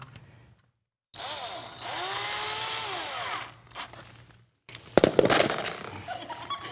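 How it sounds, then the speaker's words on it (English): A power drill runs in bursts, its motor whining up and down in pitch with a squealing edge, separated by short silences, ending in a rougher, louder grinding burst. "Who gave me this drill?"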